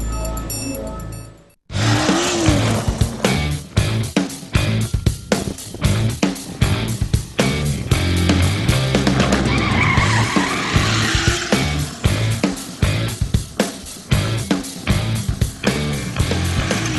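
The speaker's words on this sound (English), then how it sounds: "BMW X3's 3-litre turbocharged 6-cylinder engine can launch this SUV with sports car-like acceleration" A BMW X3 SUV with a 3-litre turbocharged six-cylinder engine launches hard from a standstill, its loud engine roar and tyre noise building steadily after a brief silence and holding strong for over fifteen seconds.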